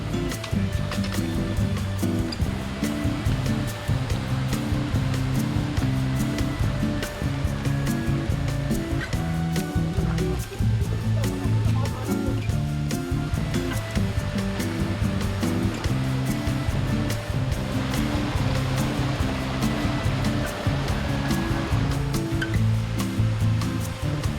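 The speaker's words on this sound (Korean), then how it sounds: "평상시에는 볼 수 없는 폭포도 흘러내리네요." A seasonal waterfall pouring down beside a mountain hiking trail on Dobongsan in Korea, a loud, continuous rushing roar that fills the whole stretch with no voices.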